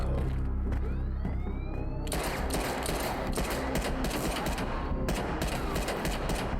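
Gunfire in the animated show Invincible: a quiet whistling, swooping build gives way to a loud continuous barrage of rapid automatic shots that pauses briefly and then resumes, dense and close.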